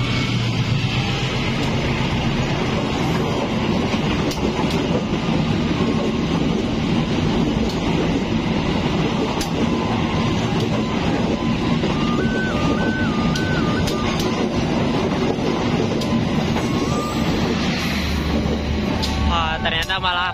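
Baraya local passenger train running between Cicalengka and Purwakarta, heard from inside as a loud continuous rumble and rattle of carriages on the rails, with steady wheel noise, a low hum throughout and voices talking underneath.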